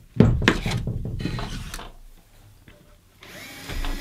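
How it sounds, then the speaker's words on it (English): A self-centering drill bit bores through a cabinet hinge into the wooden carcass: a loud initial knock and short bursts of whirring drilling, then quiet before the motor spins up again at the end. "with my self-centering drill bit, I can drill straight through and get that position just right"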